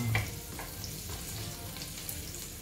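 Garlic frying in a pan for pancit canton, cooking until golden brown: a steady, close sizzle with crackling that holds even throughout, no one speaking.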